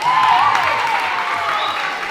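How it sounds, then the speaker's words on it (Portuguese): Class in a physics lesson claps for students who answered, with voices and cheers mixed in. The applause is brief and loud, and a faint tone sweeps beneath it. "Salva de palmas aqui quem falou."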